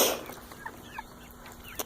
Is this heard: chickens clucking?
yes